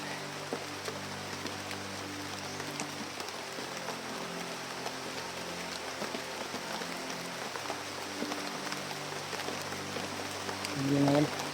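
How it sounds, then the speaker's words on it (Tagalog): Heavy rain falls steadily as a broad, constant hiss across the whole stretch, with a voice briefly speaking near the end. "Magpapasilong muna tayo dito. Habang yung ulan ay lumakas."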